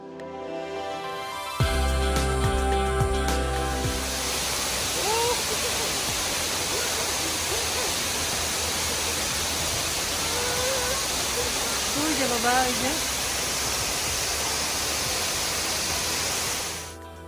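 A waterfall in a mountain area of South Korea gives a constant, dense rush of falling water. Faint voices rise briefly over the steady roar.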